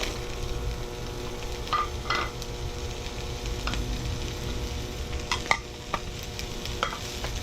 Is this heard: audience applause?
no